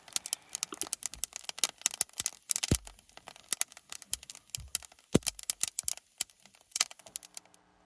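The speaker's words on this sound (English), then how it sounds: "So the clip after this is a sound of the cracking so you have an idea what you're looking for." Coffee beans cracking while roasting on a stovetop off-grid, a dense run of sharp, irregular pops and snaps, close and crisp, coming in quick clusters with brief gaps, with no voices.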